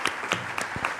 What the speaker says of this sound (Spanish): un aplauso para todo el equipo investigador